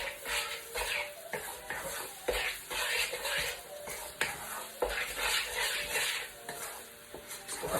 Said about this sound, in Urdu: اس کو میک شور کہ مکس اچھی طرح سے کرنا ہے آپ نے, نہیں تو شوگر جو ہے وہ جم جائے گی